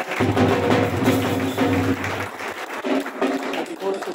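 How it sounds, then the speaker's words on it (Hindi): Crowd clapping at a Pasrur group's ustad-shagird (teacher-disciple) ceremony, a scattered patter of hands and taps under a sustained low musical drone and voices, the clapping continuing after the drone stops. "भाई की हौसला अफजाई कीजिएगा तालियों के साथ"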